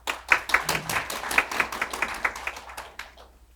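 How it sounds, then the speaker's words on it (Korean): Applause from a Korean conference audience welcoming a speaker: many hands clapping in a dense burst that gradually thins and fades out over a few seconds. "박수로 모시겠습니다"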